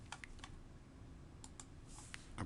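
Keys clicking on a computer keyboard while a search term is entered, a few scattered quiet taps over a low background hum, with no one speaking.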